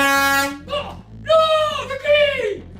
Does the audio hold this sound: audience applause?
no